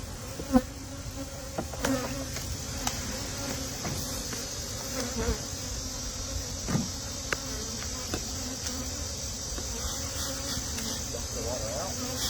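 A swarm of honey bees hums around the hives in a constant close drone, with a few faint knocks and clicks scattered through it and no one speaking.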